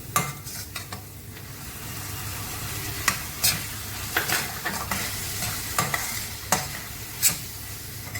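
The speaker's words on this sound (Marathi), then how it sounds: "आता छानपैकी अद्रक लसूण हिरवी मिरची आणि कांदा एकजीव झालेले आहे त्यामध्ये मी आता टोमॅटो घालते आहे" Tomatoes being sautéed in a pan with ginger, garlic, green chili and onion, giving a steady sizzle close by while a spoon scrapes and stirs, with sharp clinks recurring every second or so.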